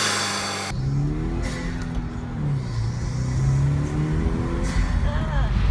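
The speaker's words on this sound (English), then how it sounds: "especially with a turbocharged car like the WRX, allowing you to hear that turbo even more" A turbocharged Subaru WRX fitted with an aftermarket Injen intake revs, a loud engine note that rises and falls in smooth sweeps with some whooshing air on top, and the engine stays present throughout.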